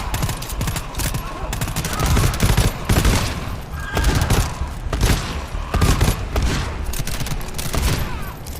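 A hell revolver fires in a video game, a dense, rapid barrage of loud gunshots and impacts with short gaps between bursts.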